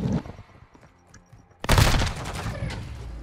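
Shotgun gunfire in Call of Duty erupts as a sudden loud burst of shots and explosions after a quieter stretch of game sounds, continuing as dense close combat noise.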